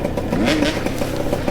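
A 2-stroke enduro motorcycle engine revving on wet, muddy trails, a loud, buzzy drone whose pitch rises and falls in one brief burst.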